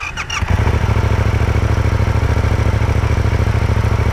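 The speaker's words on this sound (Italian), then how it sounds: "Andiamo all'accensione." A Euro 4 motorcycle starts up with a brief cranking clatter, then settles into a loud, steady, close-up idle with an even rapid pulse, no voices.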